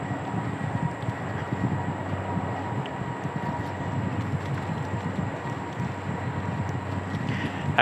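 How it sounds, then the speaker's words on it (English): A distant train rumbles steadily, a low continuous roar with faint metallic squeals, heard alone outdoors during an e-bike ride. "I hear a train over there."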